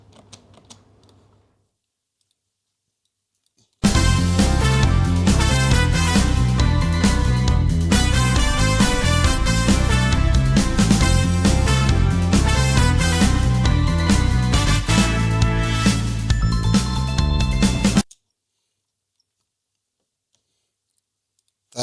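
A dense cover of Sonic 2 music, with steady M1 synth and accordion layers, plays loudly for about fourteen seconds, framed by near silence before and after.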